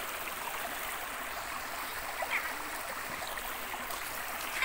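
A river flows in a steady, even rush of running water, constant and moderately close, with no voices.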